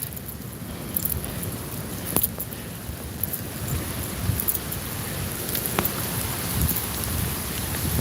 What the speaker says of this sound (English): Rain's coming out a little heavier.